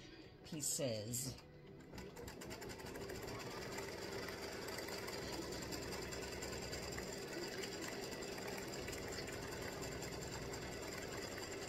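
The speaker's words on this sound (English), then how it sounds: "this will stitch the final satin stitching around the game pieces" Sewing machine running a steady satin stitch with variegated thread around appliqué game pieces on a tic tac toe board, a continuous close, even mechanical hum after a brief louder clatter at the start.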